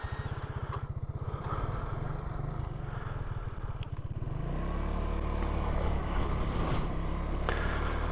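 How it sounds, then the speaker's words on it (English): Engine drone of a Buddy scooter heard from a rider's helmet microphone while riding through a neighborhood: a steady low buzzing hum that swells louder and smoother about halfway through as the scooter speeds up, with wind rush underneath. "Vehicle of choice today, the Buddy scooter."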